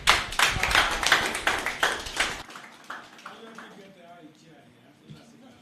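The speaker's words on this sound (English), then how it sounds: "Please, another round of applause for our guest lecturer" A small audience gives a short burst of hand clapping for a guest lecturer at a pharmacy seminar on artificial intelligence, close and sharp for about two seconds before fading into quiet room murmur and talk.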